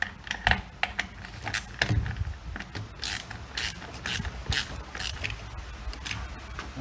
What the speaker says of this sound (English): So I'm going to tighten this side up first.